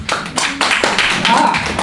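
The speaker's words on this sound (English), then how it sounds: "Let's give him also a round of applause." Audience clapping in a classroom practicum welcoming the MC, a short loud burst of hand claps with uneven sharp strikes, overlapped by speech.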